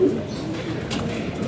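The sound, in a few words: pigeon landing nearby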